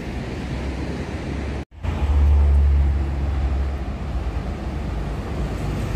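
Ocean waves wash onto the beach at Camps Bay, South Africa, a steady broadband rush of surf with wind, briefly cut out for a moment before the roar swells back, continuous and fairly loud.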